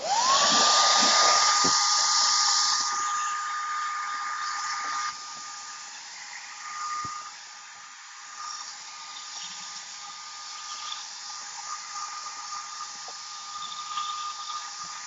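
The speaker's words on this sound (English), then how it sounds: "I'm going to dry this with my hair dryer really quick" A hair dryer whirs up with a rising whine and blows loudly at first, then continues as a steady, softer airy rush with a thin tonal hum.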